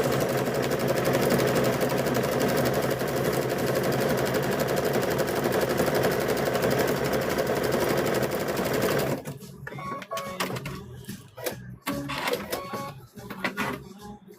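A sewing machine runs a straight stitch along the edge of quilt binding, a loud steady rapid mechanical whir for about nine seconds, then stopping and leaving scattered clicks and handling noises.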